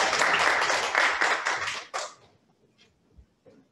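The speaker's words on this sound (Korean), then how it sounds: "박수 부탁드립니다" Brief burst of audience clapping at a youth housing forum held by the Justice Party, dense for about two seconds, then cutting off abruptly into a quiet room with a few faint stray sounds.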